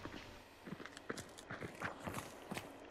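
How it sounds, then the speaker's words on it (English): Horse hooves clip-clopping in a night-time hunting video game, a steady, moderately close run of muffled hoof clops at walking pace. "No, I heard a horse."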